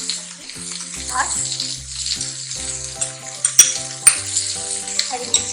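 Potatoes with carrots and cabbage fry in a pan with a close, steady sizzle as sharp clinks and scrapes of stirring cut through, while a voice talks over the cooking.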